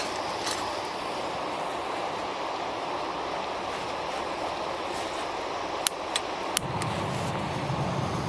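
A gas burner hisses steadily outdoors, then a few sharp piezo igniter clicks sound before the flame catches, adding a low roaring rumble under the hiss.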